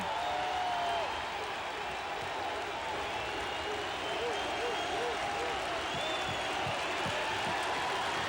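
Fenway Park baseball crowd in 1986 roaring after a record strikeout, a loud sustained wash of cheering and applause from a large distant crowd that holds steady throughout.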